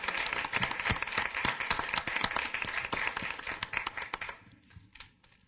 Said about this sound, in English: I think we should have applause.